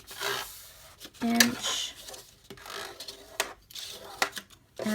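Regular cardstock being folded and creased along measured marks, heard as short papery rubs and crisp creasing scrapes that come in bursts between brief spoken comments.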